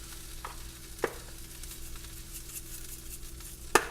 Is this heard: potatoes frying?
yes